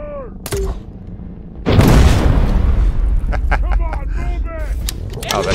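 Gunfire in Terminator: Resistance, a sharp blast followed by a loud, sustained roar of shooting and booming impacts, with chirping electronic tones and someone talking excitedly over the chaos.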